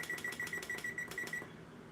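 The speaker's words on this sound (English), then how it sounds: "I forgot to set a timer here." A kitchen timer is set with a run of about nine quick, evenly spaced clicking beeps that stop abruptly, close and fairly quiet, with no speech.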